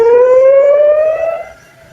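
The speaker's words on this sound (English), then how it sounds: "Sirens and explosions over the old city of Jerusalem and across Israel tonight" A wailing air raid siren over Jerusalem holds a steady, slowly rising tone, loud and close, then drops away and fades in the final half second.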